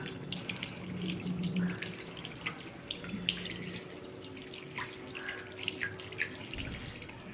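A household tap runs steadily into a sink while hands and a face are washed, a continuous close splashing rush broken by small drips and splatters.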